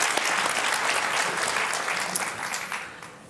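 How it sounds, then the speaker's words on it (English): Warm applause from an audience at the 2024 NATO Public Forum, a dense wash of clapping that holds steady and then slowly tapers off. "Yes, please give your warm applause."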